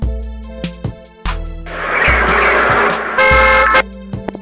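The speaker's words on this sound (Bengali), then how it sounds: "এখান থেকে গাড়িটা হর্ন দিচ্ছে" Car horn toots from an edited clip: several short honks in a choppy, cut-together rhythm, then a longer blaring horn blast, loud and close with no talk.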